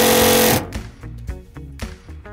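A power driver sends a screw through a shipping container wall into a 2x4, with a loud whirring burst for half a second followed by a series of short, sharp mechanical bursts and pauses.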